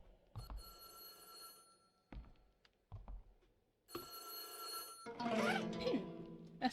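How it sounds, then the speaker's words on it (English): A telephone rings inside the horror video game White Day, heard as bright repeated electronic ring bursts separated by gaps, then a denser noisy stretch of game sound near the end. "I can still hear the phone."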